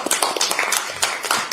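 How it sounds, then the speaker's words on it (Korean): Applause of comfort and support at a party leadership meeting, a short burst of hand claps with scattered individual slaps, fairly close and moderately loud, no talk over it. "위로와 응원의 박수를 부탁드리겠습니다"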